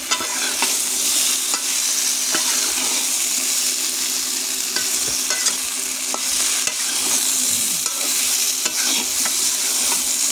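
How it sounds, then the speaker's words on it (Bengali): A hilsa fish curry with potato and plantain is stirred in a pan. A constant, bright frying sizzle plays under intermittent scrapes and knocks of the spoon, near and steady, with no talking. "ঢাকনা তুলে নিলাম, তরকারিটা আবারও নেড়ে দেবো।"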